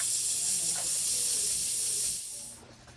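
Pots of water boiling and bubbling outdoors at a smokehouse fish camp, a steady close hiss with soft gurgling that thins out and fades toward the end.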